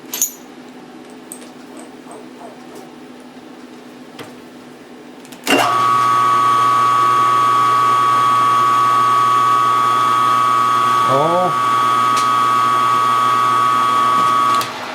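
A drill fitted with a 377 bit runs steadily after a quiet stretch of shop noise, starting abruptly and droning loud and constant for about nine seconds, with a brief squeal of cutting partway through.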